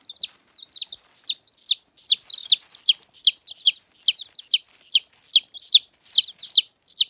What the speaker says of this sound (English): So I have six new little chicks.